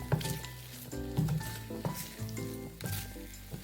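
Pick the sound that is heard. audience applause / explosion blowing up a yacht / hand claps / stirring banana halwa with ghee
stirring banana halwa with ghee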